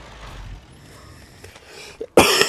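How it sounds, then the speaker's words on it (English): A faint rough throat noise followed by a single loud, sharp cough close up near the end. "Sorry about the coughing."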